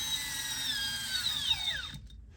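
A small belt-drive outrunner electric motor with no gear noise whirs with a high, smooth whine that spins down in pitch and cuts off, quiet and close.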